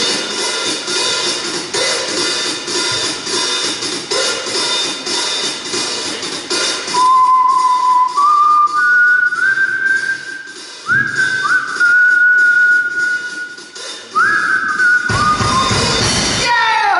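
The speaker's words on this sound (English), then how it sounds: "He smiled, looked up to the sky, and whistled a tune." A live rock performer whistles a short tune alone into the microphone, clear and loud, with a series of rising sustained notes over a hiss of crowd ambience.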